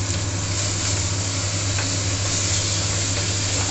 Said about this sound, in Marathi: त्याच्यामध्ये आपल्याला घालायचं आहे तेजपत्ता तेल तापल्यावर